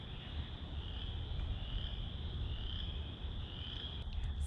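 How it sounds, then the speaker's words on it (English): Chorus frogs and wood frogs call together at a vernal pool, forming a dense, steady, high trilling chorus with low clucking croaks underneath, continuous and fairly loud throughout. "I can hear chorus frogs and wood frogs."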